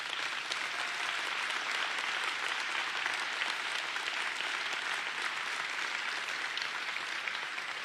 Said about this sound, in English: And they, today, among all, deserve your applause.